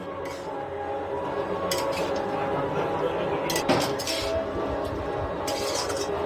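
A utensil stirs cumin, coriander and chilli powder with salt into chicken in a pot, giving scraping clinks and soft metallic knocks over a steady background hiss.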